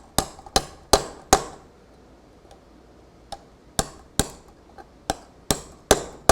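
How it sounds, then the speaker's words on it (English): A hammer taps an electric guitar tremolo block: sharp metallic taps ring out one at a time, a quick cluster of four then sparser, evenly spaced strikes, close and crisp with short ringing decay. "a steel hammer works just as well."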